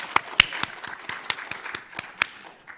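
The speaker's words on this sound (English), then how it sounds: "I want to give a big round of applause for Olivia Data for emceeing." Sparse, uneven clapping from a small audience at a student teach-in at Harvard, honoring the event's emcee: a handful of distinct claps spread out with gaps between them.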